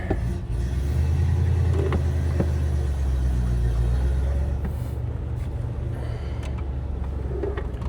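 A 1968 Oldsmobile 442 convertible on a test drive, its engine giving a steady low rumble from inside the cabin, moderately loud and unbroken, with no talking.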